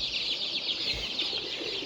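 A crowd of Sonali chicken chicks peep constantly in a brooder, a dense, high, overlapping chorus of chirps close by with no speech.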